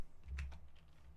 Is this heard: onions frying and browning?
no